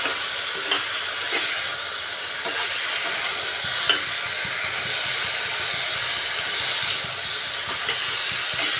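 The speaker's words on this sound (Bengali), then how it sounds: "এবার গ্যাসের আঁচটা একটু বাড়িয়ে ভালোভাবে কষিয়ে নিচ্ছি" Tilapia with ridge gourd and potato sautés in a pan over a gas flame turned up higher, giving a loud, steady close-up sizzle and hiss with faint scraping stirs throughout.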